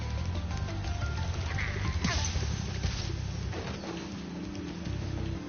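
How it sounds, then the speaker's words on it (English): Sheep bleat in the Spyro Reignited Trilogy video game on PlayStation 4, short game-sound bleats over steady background game audio. "I'm gonna just torch a sheep, and I'll be fixed."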